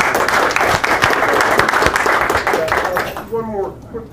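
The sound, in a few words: audience round of applause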